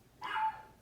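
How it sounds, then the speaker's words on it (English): A single short dog bark sounds faintly in the background, a brief sharp yelp standing alone against quiet. "If you guys hear barking in the background,"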